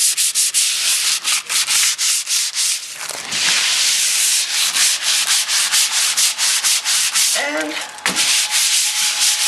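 Drywall being sanded by hand with 120 grit sandpaper, a loud, close, steady back-and-forth scrubbing in rapid strokes, broken by a brief pause and a single spoken word near the end.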